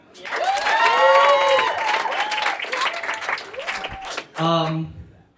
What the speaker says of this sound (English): Can I get a big round of applause for Kev?